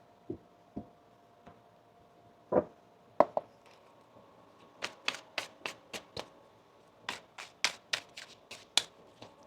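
A tarot deck is shuffled in short crisp bursts, about a dozen sharp riffles and taps close up, with quiet gaps and no talking.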